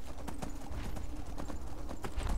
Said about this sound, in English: It made the horse run away when there was danger.